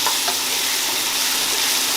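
Ginger garlic paste fries hard in hot oil for chicken biryani, making a loud, dense, unbroken sizzle that stays close and steady throughout.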